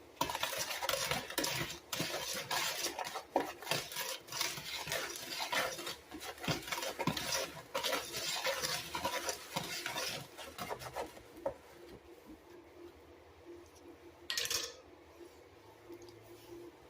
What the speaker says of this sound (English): Now we're going to whisk this all together, get it all mixed up.